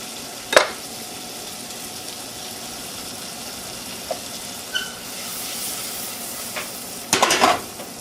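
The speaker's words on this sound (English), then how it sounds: "I add the onion and saute it for about 8 minutes or so until it's starting to caramelize" Onion sautéing in a pan, giving a steady low sizzle with a few utensil clinks and stirring scrapes, a brief clatter near the start and a louder burst of scraping near the end, no talk.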